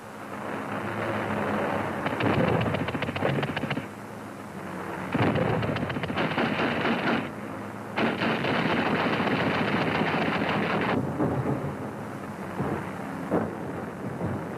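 Anti-aircraft fire and exploding shells aimed at American bombers over the IJsselmeer: loud sustained bursts of rapid firing, stopping and restarting in several long volleys over a continuous rumble.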